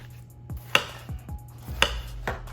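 A kitchen knife slices through small watermelon stalks into chunks, giving a few soft, separate cutting knocks against a board, quiet and close with no talk.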